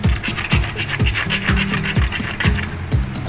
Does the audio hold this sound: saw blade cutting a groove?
yes